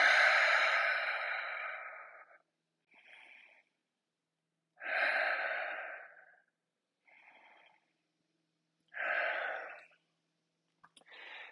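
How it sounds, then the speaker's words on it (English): Slow, deep breaths during a yoga practice, with three long loud exhales interleaved with shorter, quieter inhales, heard close and alone without talk. "Three breaths."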